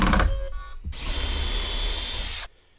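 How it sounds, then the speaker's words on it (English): A power drill pre-drilling holes in plywood, running as one steady whirring burst of about a second and a half after a short clunk, close and loud, then cutting off abruptly. "With plywood, you always want to pre-drill your holes."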